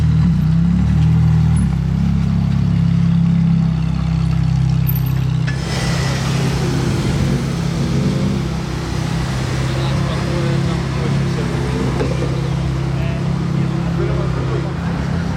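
A Ferrari 812 with a Novitec N-Largo body kit runs with a deep, steady low engine drone, a brighter passing surge swelling in around the middle and then easing back to a loud idle-like rumble.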